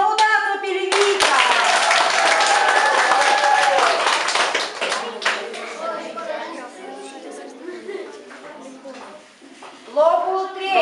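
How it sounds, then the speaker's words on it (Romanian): Children at a Christian summer camp applaud a prize winner in a sustained burst of clapping that fades into chatter, with a voice speaking over the noise. "Aplaudați-o pe Livica!"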